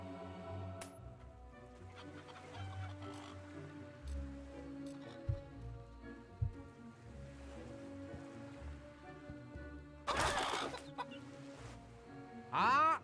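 Chickens clucking in a video game where they are kicked into scoring areas, soft scattered clucks over faint surf-like ambience, with a few louder flapping bursts near the end.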